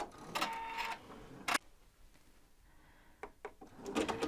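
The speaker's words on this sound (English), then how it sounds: "this is the box that the machine will stitch for me" An embroidery machine stitches a box of stitches around a design with rapid mechanical rattling bursts, a sharp clack, a quieter pause, then the whirring stitching resumes, close up and with no talking.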